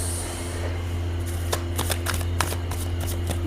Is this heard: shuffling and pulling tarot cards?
yes